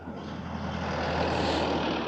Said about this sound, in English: There's a Woolworths delivery truck.